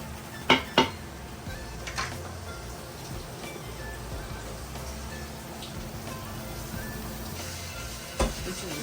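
Crab masala with onions frying in a pan, a steady soft sizzle under a few sharp clinks of a metal spoon against the pan near the start and end.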